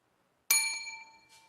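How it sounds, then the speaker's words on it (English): A single bell rung once in a home kitchen, a bright clear ding with a ringing tone that fades slowly, followed by a faint second shimmer. "I'm ringing the bell."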